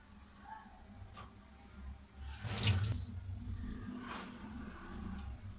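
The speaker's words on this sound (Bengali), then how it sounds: "সব কিছু ভালো করে আবারও ধুয়ে নিলাম" A kitchen tap runs steadily into a sink while raw chicken is rinsed, with a brief louder gush and splash midway. The sound is soft and close, with no talking.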